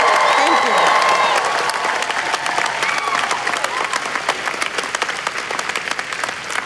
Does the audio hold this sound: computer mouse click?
no